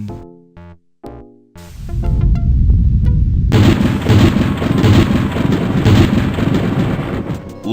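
A thunderstorm in the video game Day of the Tentacle starts with sparse tones, then loud rumbling thunder and heavy rain roar in steadily and fill the rest.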